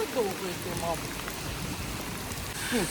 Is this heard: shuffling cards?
no